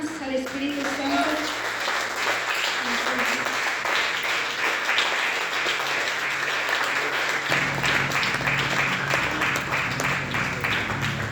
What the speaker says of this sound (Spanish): Porque no das fuertes palmas al Espíritu Santo.